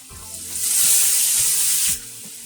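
Pork belly hits hot rapeseed oil in a heated wok for pancit, a loud hissing sizzle that swells quickly, holds for about a second, then drops back to a quieter crackle.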